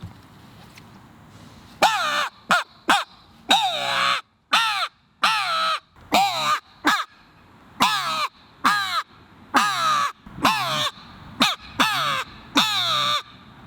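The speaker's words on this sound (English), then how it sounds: "The thing I've learned about a crow call is you really got to come from your gut to get a real raspy sound out of it" A handheld crow locator call used for turkey hunting is blown hard from the gut, giving a long series of loud, raspy caws in short bursts with steady rhythm and no talking.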